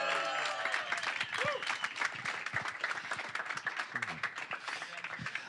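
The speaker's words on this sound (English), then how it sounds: "Give a round of applause." Audience applause at a 2021 blockchain influencer awards show: dense, steady clapping from a crowd, with scattered voices and a few cheers mixed in, lasting throughout.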